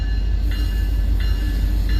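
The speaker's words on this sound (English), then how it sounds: "So this train's still stopped, even though he threw all his lights on now." A stopped Union Pacific freight train idles at a rail crossing in Beaver County, Pennsylvania, its locomotive rumbling low and steady throughout with no talk.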